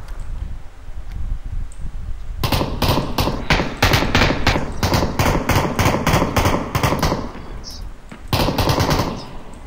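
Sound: gunfire in video game PUBG

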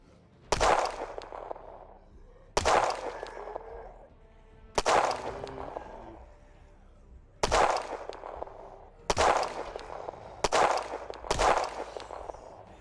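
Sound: gunshots in Project Zomboid video game

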